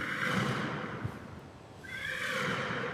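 A horse gives a clear whinny, followed shortly by a second neigh, set against a steady background hum, with no talking.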